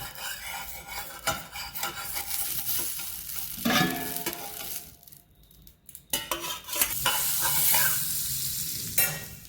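Garlic bread toasting in a frying pan, with a continuous sizzle plus scraping and rubbing from a utensil against the pan, close by and with no speech.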